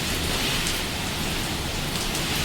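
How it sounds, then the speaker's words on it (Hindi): Heavy rain pours down during a violent storm, a dense, loud, unbroken hiss of drops hammering surfaces close by. "सोचिए कितनी खतरनाक बारिश पड़ रही है।"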